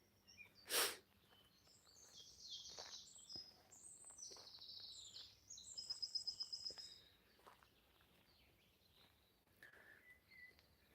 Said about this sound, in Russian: Очень надеюсь, что вам слышно пение птиц.